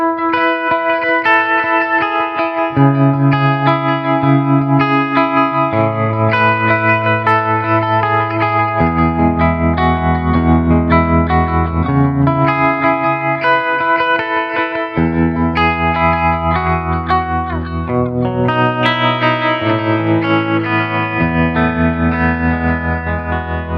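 Electric guitar played through a vintage combo amp with delay switched on, sustained chords and notes ringing with echoing repeats and distortion, loud and continuous for the whole stretch with no talking.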